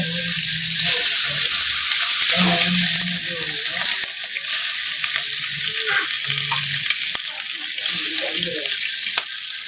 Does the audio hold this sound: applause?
no